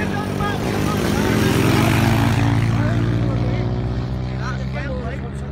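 A light aircraft on final approach to land passes right overhead, its propeller engine droning loud and close, swelling to a peak and then fading slightly as it goes by.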